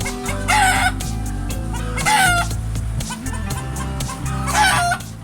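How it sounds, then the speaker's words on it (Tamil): Native country chicken breeds, including black-fleshed karunkozhi, siruvidai and peruvidai, cluck steadily on a farm while a rooster crows loudly three times at regular intervals. "கருங்கோழி சிறுவிடை பெருவிடை இந்த மாதிரி நாட்டுக்கோழி ரகங்கள் இருக்குது"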